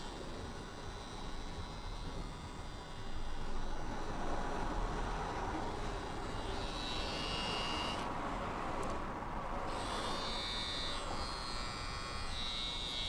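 A TPOB GO hair trimmer runs at 8,000 RPM with a steady electric buzz that strengthens after a few seconds and holds evenly, a faint high whine shifting near the end.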